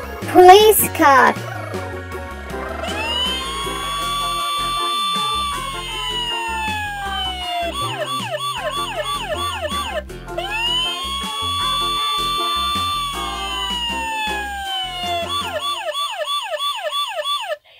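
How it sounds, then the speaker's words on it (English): A police car siren wails in long rising and falling sweeps, then switches to a fast yelp pattern, repeating loud and clear with no talk over it. "Police car."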